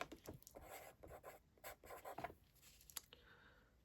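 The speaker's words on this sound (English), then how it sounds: "I'm going to write this down" Pen or pencil scratching across paper as measurements for a handmade zine are written down, a quiet close series of short strokes and taps with brief pauses between them.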